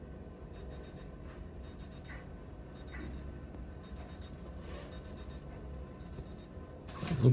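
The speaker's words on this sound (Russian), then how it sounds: "примерно так будет звучать будильник" A Casio Lineage LCW-M100DSE Wave Ceptor wristwatch alarm beeps in repeated short high-pitched bursts, groups of rapid electronic chirps spaced about every second, faint and close over quiet room background.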